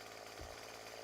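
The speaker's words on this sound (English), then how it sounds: "Chainsaw noise out of there." A chainsaw drones steadily in 7 Days to Die, a continuous buzzing whine heard at a distance, faint and unbroken for the whole second.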